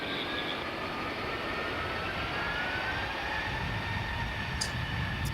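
A Delta A319 airliner rolls down the runway on takeoff, its engines giving a steady, rising roar with a whining tone at a moderate distance.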